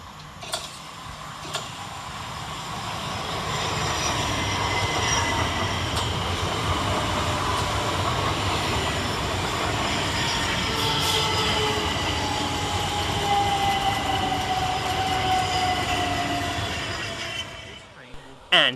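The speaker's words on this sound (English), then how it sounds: "here comes our new train, some 5 minutes late, in the form of 700 133" A Thameslink Class 700 electric train, unit 700133, pulls into Burgess Hill railway station with a loud, rising rumble of wheels and a long, falling brake squeal. It slows over many seconds, and a voice speaks faintly beneath the noise.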